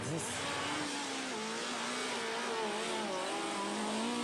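The RAF-X, a car made in Togo, with its engine running and revving, its pitch rising and falling in a steady, close drone that fills the whole stretch with no voices.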